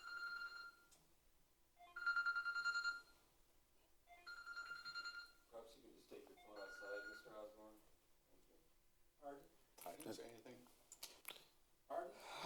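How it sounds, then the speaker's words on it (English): A telephone rings in a council meeting room, with a few separate electronic ring bursts near the start. Faint talking and some clicks follow. "Got a phone call."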